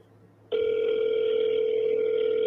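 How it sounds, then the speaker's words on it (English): A telephone dial tone clicks on after a half-second of quiet and holds as a steady, loud, unbroken hum until the end. "Can you hear the dial tone?"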